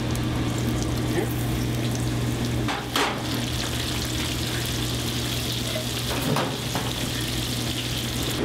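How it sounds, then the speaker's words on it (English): Bamboo worms and French fries deep frying together in a fryer make a steady, loud bubbling sizzle that runs throughout, with a few brief clatters over the oil. "All right, to the fryer. I'll try to get more fries in there than bamboo worms."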